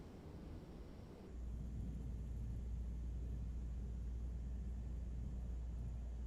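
PC-12 turboprop engine idling in Microsoft Flight Simulator 2024, a steady deep rumbling drone that steps up in level after a second and then holds constant, with no talking.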